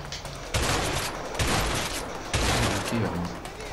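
Gunfire in the A Way Out video game: three loud bursts of rapid shots about a second apart, each with a ringing tail, with faint in-game voices between them.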